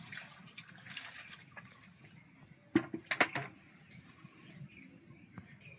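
Water is poured into a pot of snails set on a clay stove for boiling, a brief cluster of close splashes and trickles against faint background noise.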